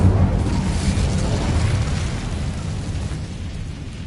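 A fire spell cast in a video game sets off a loud, steady roaring whoosh of flame, with a heavy low rumble that holds for about four seconds and slowly eases off. No one speaks.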